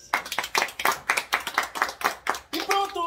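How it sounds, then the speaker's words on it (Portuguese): About a dozen sharp hand claps in a quick, steady rhythm from a small family group at a lunch table, with a short burst of voices at the end. "Palmas."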